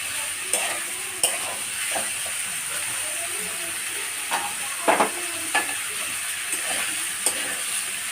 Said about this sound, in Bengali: এবার আমি এই সবজিগুলো দিয়ে দেবো। দিয়ে এবার আমি ভালো করে নাড়বো